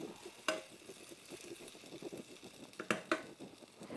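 Potatoes browning in a hot pan sizzle quietly and steadily, with a few sharper crackles and pops breaking through the low frying hiss.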